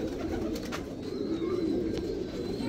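Pigeons coo softly amid a steady background murmur of other birds, a few low rounded calls rising and falling across the stretch without any voice over them.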